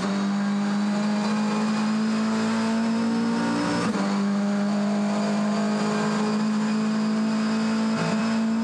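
A BMW race car on a GT championship circuit at East London, its engine holding a loud, steady high-revving drone that dips briefly mid-pass before resuming strongly, with no talk over it.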